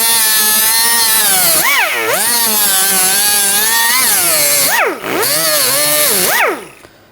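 A grinder cuts off the rivets of a front lower ball joint on a 2014-2018 GMC Sierra 1500, a loud, continuous high whine that dips in pitch twice as it bites into the metal, then winds down at the end.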